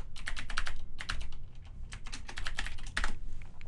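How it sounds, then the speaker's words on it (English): Steady typing on a computer keyboard, close and clear, with rapid key clicks arriving in short bursts and brief pauses between them, and no voice over it. "Let me go ahead and type it up here first."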